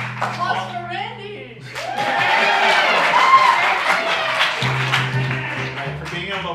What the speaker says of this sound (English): Applause for Randy.